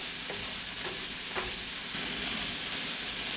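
Garlic sautéing briefly in a pan gives a steady, close sizzle that fills the whole stretch, with a few faint light clicks from stirring and no voices.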